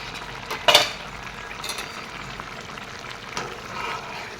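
Jika and goroi fish curry with potatoes fries in a pan, giving a soft, steady sizzle broken by a few scraping stirs, the sharpest stroke near the start and lighter ones later.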